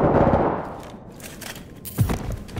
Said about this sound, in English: Are they shooting through the floor?